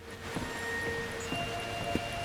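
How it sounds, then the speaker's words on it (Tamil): Steady rainfall in the horror video game Outlast 2, a continuous dense patter with a few louder drops and soft rustling, no voices over it. "நல்லா இருக்குல்ல மழை."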